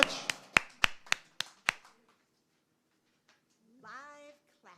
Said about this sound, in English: Live clapping.